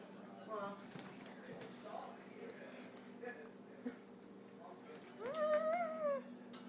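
A cat meows in a home kitchen, first with short, faint mews, then with one drawn-out, louder meow at the end, while a person speaks softly throughout.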